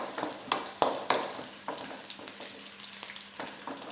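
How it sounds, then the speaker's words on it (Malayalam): Onion, garlic and green chilli frying together in oil in a pan, a steady close hiss broken by several spatula taps and scrapes that fade toward the end. "ഇതിപ്പോൾ ആണെങ്കിൽ ഒന്നിച്ച് ഇങ്ങനെ ഇതിനകത്ത് നിന്ന് ഇങ്ങനെ വറുത്ത് നമുക്ക് കോരിയിടും."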